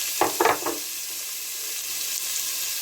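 Steady hiss of onions frying in hot bacon grease, with a few sharp crackling bursts at the start before settling into a constant sizzle.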